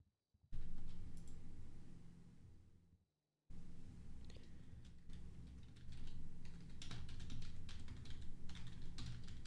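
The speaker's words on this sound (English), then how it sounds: "I keep forgetting to say when I'm done typing." Rapid typing on a computer keyboard, a dense run of light clicking keystrokes close up that pauses briefly before resuming at a busier pace.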